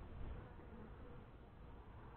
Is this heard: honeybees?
yes